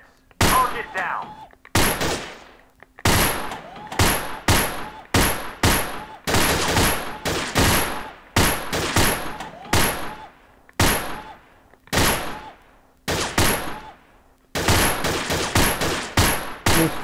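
Allied SMG 26-40 submachine gun fired in the Gun Club VR game, loud rapid automatic bursts repeated in quick succession with short gaps between them.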